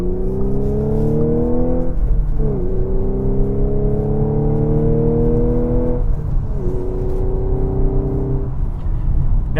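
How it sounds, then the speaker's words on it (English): A 2016 Audi S5 Coupe engine with a manual gearbox revs up repeatedly, its pitch climbing through gears with brief dips between, loud and close. "But I want you to hear this engine."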